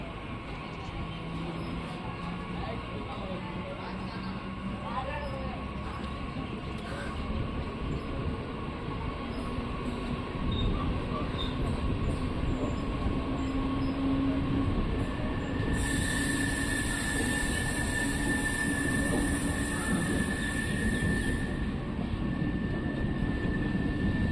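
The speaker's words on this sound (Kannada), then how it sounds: "ಕಂಟೋನ್ಮೆಂಟ್ ರೈಲ್ವೆ ಸ್ಟೇಷನಿಂದ ನಮ್ಮ ಟ್ರೈನ್ ಹೊರಟಿದೆ" Steady rumble of a MEMU passenger train departing Bangalore Cantonment station, with rattling wheels and a constant hum throughout and a brief high whine later on.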